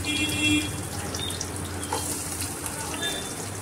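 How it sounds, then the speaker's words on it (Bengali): Chopped onion frying in hot oil for a soybean dish makes a continuous, moderately loud hissing sizzle that holds steady throughout. "সেটাকেই দিয়ে দিচ্ছি কোচানো পেঁয়াজটা তেলের মধ্যে"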